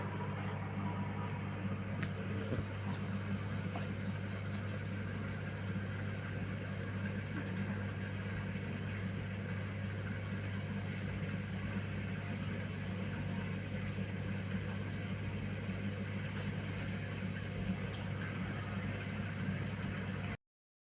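A dishwasher hums steadily through its wash cycle, a constant low drone with faint rushing water and occasional small clicks, unbroken and even in level throughout.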